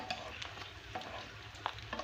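Quiet, steady sizzling of a cheburek pastry frying in hot oil, with faint crackles and a few soft clicks of a utensil.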